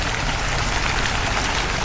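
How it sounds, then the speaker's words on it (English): Small waterfall in the beach town of Jaco, Costa Rica, giving a dense, continuous splashing hiss, close and fairly loud with no pauses. "A little waterfall here."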